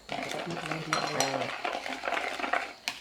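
A spoon stirs spices and seasoning powder into minced pork and blood for northern Thai pork larb in a pan, scraping and clinking against the metal with a soft sizzle, while someone talks over it.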